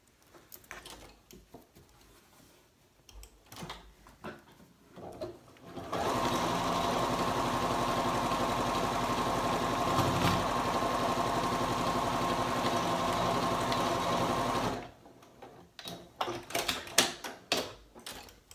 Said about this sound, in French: on va venir coudre vraiment comme ça ici, ensemble.